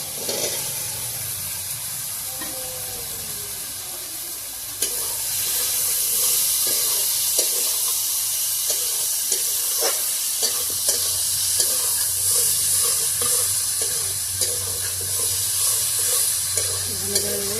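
Potatoes fry in oil with chili powder for a Bengali egg paneer dish, giving a steady sizzle with scraping stir clicks that grows louder and fuller partway through.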